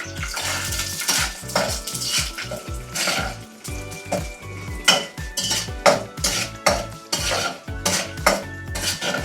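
Urad dal and toor dal fry over medium flame in a pan, stirred with a metal spoon that clinks and scrapes repeatedly against the pan over a low, steady sizzle.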